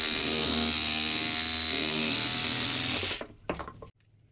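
A Dewalt DCS367B cordless reciprocating saw fitted with an old, worn blade cuts through a 4-inch pine wood post with a steady, loud buzzing drone for about three seconds, then stops abruptly, followed by brief clatter and quiet.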